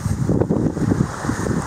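An east wind blowing on Malibu Beach in Okinawa, with pumice floating offshore, buffeting the microphone in rough gusty rumbles over the wash of the sea, close and steady with no voices.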